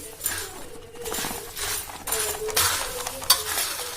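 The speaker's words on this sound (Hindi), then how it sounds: "तो इसमें थोड़ा सा मसाला छिड़क लेंगे और इसको हम कर देंगे मिक्स।" Chaat masala is mixed into food in a home kitchen, with repeated close scraping and stirring strokes of a spoon against the dish and an occasional light clink.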